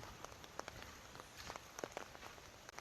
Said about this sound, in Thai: ในเช้าที่ฝนตกก็จะเป็นอย่างนี้นะครับผมสำหรับบางแสน